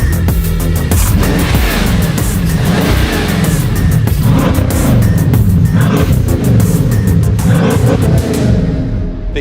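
A Lucid Air Sapphire and a triple-motor, 1,020-horsepower Tesla Model S Plaid race flat out, with a loud, continuous roar of hard acceleration that fades slightly at the end.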